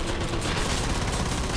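Hand cannon gunfire in the Killing Floor video game, a dense, continuous barrage of loud shots and impacts filling the whole moment with no pauses and no speech.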